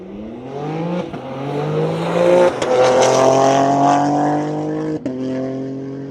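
A powerful BMW G80 M3 or Porsche Turbo S launches hard at a private track day drag run, the engine screaming up through the gears with sharp shift breaks, loud and close.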